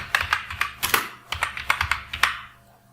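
Rapid keystrokes on a computer keyboard, close and clear, in an uneven run of a dozen or so taps that tapers off, with no talking.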